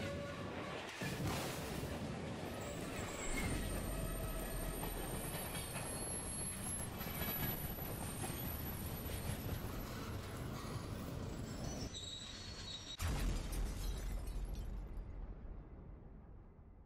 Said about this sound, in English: heard was the train crashing